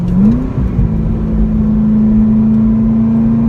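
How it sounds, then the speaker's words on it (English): Chevrolet Corvette ZR1 engine on twisty roads, a loud steady mid-pitched drone that rises briefly then holds a constant tone, heard close from inside the car with no talking. "This is the fabled Corvette ZR1"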